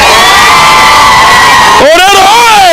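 A crowd cheers and whoops for Orero at an outdoor event at Raila Education Centre in Kibra, Nairobi, a loud burst of shouting with tonal calls and rising yells that swell near the end.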